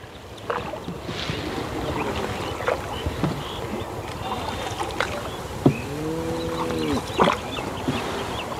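A rowing boat moves across the wide Kunti river with a continuous wash of water, occasional knocks and splashes from the oars, and a brief tonal animal call partway through.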